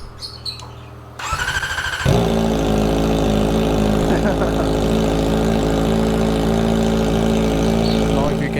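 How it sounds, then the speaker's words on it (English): A Kawasaki Ninja ZX4R motorcycle with its exhaust removed cranks, fires up and settles into a loud, raw, steady idle close by, after a brief quiet moment with some faint background sound. "Let's see how this bike sounds like without an exhaust."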